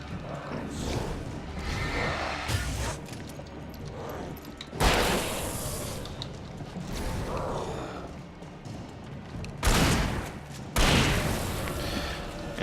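Several heavy double-barrel shotgun blasts in the video game Alan Wake, with sharp loud bursts near five, ten and eleven seconds over a dense, noisy background.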